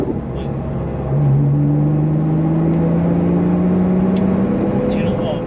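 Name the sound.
car accelerating hard in third gear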